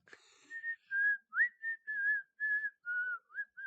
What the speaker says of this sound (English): You're a better whistler than me.